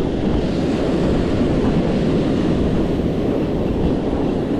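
Ocean surf breaking on a beach while fishing for redfish in rough current, a steady close wash of water mixed with wind buffeting the microphone, no talk.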